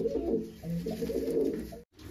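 A Madras pigeon coos close by in a soft, throaty series of low calls that fill most of the moment, then stop briefly near the end.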